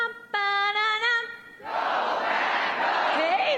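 Campaign rally audience answering in a chant: a single voice sings a short tonal phrase, then a large crowd swells in with loud sustained cheering and shouting that holds to the end.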